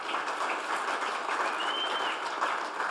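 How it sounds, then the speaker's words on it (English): Applause from an audience at an all-team company meeting, a dense wash of many hands clapping that stays even and moderately distant throughout, with no speech on top. "So round of applause for everybody getting ready to join us."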